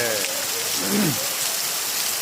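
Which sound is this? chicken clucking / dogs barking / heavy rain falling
heavy rain falling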